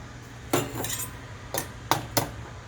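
An egg cracked into a bowl while making scrambled eggs, heard as a few sharp close clinks and taps against the bowl, spread over a couple of seconds.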